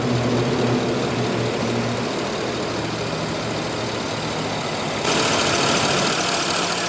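Hyundai Equus 5.0-litre V8 from a 2016 model idling nearby with a steady, even rumble, the broadband noise stepping up slightly near the end.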